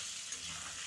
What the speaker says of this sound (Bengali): এই যে আলুগুলো কিন্তু ভাজা হয়ে গেছে, আমি এবারে তুলে নেব।